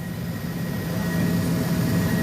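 A rented helicopter's engine and rotor make a steady, loud, low droning roar with a faint high whine, unbroken and close, with no voices.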